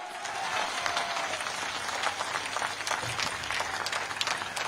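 Dense, steady applause from a large crowd at an outdoor political rally in Guna, Madhya Pradesh, a continuous wash of clapping that holds loud and even from start to finish.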